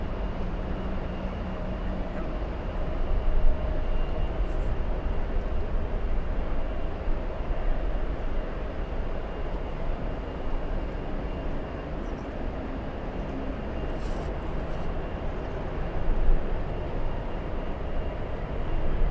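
A jet airliner takes off from runway 24 left at LAX, a steady loud broadband roar that holds through the whole stretch without breaks, with no voices over it.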